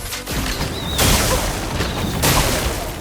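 An explosion attack from the video game Clair Obscur: Expedition 33 lands as two heavy, noisy booming blasts about a second apart, loud and dense, with no voice over them.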